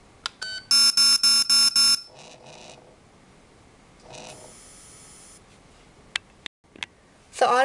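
Repeated electronic beeps from an Aetertek AT-218S remote dog training collar: a tight burst of loud, evenly spaced tones, then fainter buzzing passages and a few sharp isolated clicks, heard close with no talking.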